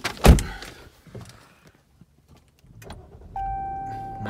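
A 2019 Jeep Cherokee Limited, heard from inside the cabin: a loud door thump, a quiet pause, then the engine cranks and catches into a steady idle hum.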